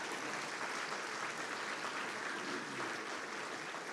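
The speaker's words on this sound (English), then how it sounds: "if y'all would give these men a round of applause" Steady crowd applause honors a group of men at a Hearts and Heroes event, a continuous, even patter of many hands heard from a moderate distance without a break.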